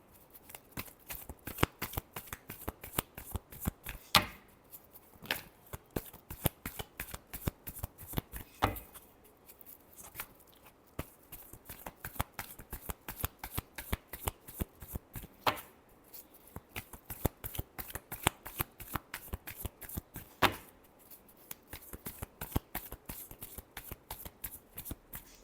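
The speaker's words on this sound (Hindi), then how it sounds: "last shuffle" Tarot cards are shuffled by hand in a quiet room, with many quick, crisp riffling snaps in uneven bursts separated by short pauses.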